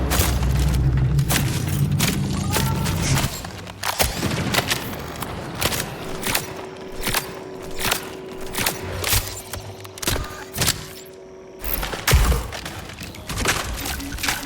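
Futuristic 3D-printed guns in the video game Marathon fire in rapid bursts of dense, crackling shots with booming impacts and a brief whining tone, loud and continuous throughout.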